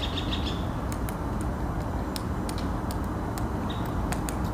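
A great spotted woodpecker forages by striking its beak against wood, giving sharp, isolated knocks at irregular intervals over constant background noise, with faint bird chirps early on.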